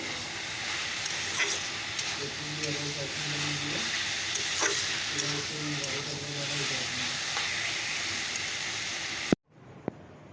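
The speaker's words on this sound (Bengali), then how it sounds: "ডালের বড়ি দিয়ে লাবণটা হবে লাবণটা বসিয়ে দিলাম" Lau (bottle gourd) and dal bori labra cooking in a pan, a continuous soft hiss and sizzle with background voices and a low hum, ending in an abrupt cut to near silence.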